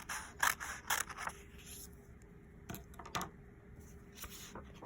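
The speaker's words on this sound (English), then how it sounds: "you can take one of your rectangles or squares and cut from corner" Scissors cutting black paper from corner to corner, quiet crisp snips in a few quick clusters with soft scraping and handling between them, close and alone.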